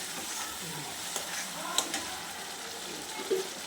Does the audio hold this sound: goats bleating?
no